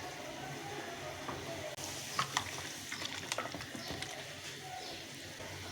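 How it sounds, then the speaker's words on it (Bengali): Mutton with onion and turmeric being stirred and fried in a pan, a soft steady sizzle with scraping and clinking spoon strokes, close and fairly quiet. "জিনিসটাকে মাংসটাকে মাখছি।"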